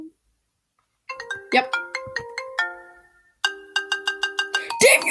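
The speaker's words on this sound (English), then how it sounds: "is my phone ringing?" A phone plays a bright chiming ringtone in two bursts of repeated melodic tones, close and clear, with a short spoken word near the start.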